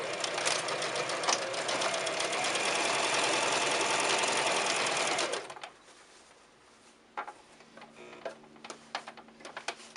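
A sewing machine runs steadily while stitching shirring across a garment's back panel, a fast even mechanical rattle for several seconds that then stops, leaving faint handling clicks and rustles.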